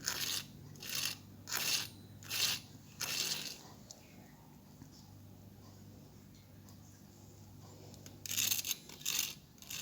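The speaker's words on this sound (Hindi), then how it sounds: "चलिए इसको एक बार आपको मैं इसकी आवाज़ सुनाई देती हूँ कि कितने क्रिस्पी हैं" Several loud crisp crunches in quick succession, then a quieter stretch, and another burst of crunching near the end, from biting into crispy fried mixed vegetable cutlets.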